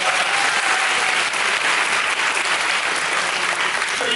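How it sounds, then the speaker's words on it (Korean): Dense, steady audience applause fills a theatre at the curtain call of the musical 형제는 용감했다 on its closing night, loud and continuous throughout with no talk over it. "그 두 분께 박수 한번"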